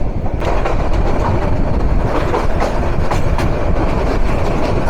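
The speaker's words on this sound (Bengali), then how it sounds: "তেজগাঁওয়ের বিশাল বড় রেল কার্ভে আন্তনগর পারাবত এক্সপ্রেস।" The Parabat Express intercity train rumbles past loudly and close on a long curve at Tejgaon, Dhaka, a continuous heavy roar of wheels on rails with faint rhythmic clacking, no voices.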